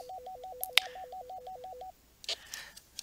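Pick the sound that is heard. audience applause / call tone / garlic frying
call tone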